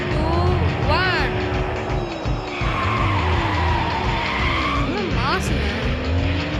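A car brakes hard and skids in a stunt, with sustained loud tire squeal and engine noise, sliding pitch sweeps near the start and again near the end, and voices talking over the action.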